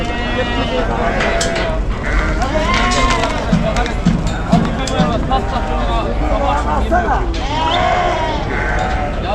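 Goats and sheep bleat repeatedly at a crowded livestock market in Kadirli, Turkey, with overlapping calls near and far over a constant background babble of people talking.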